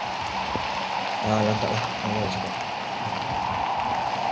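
Steady rain hisses over a Roblox Natural Disaster Survival map, constant and full throughout, while a player talks over it.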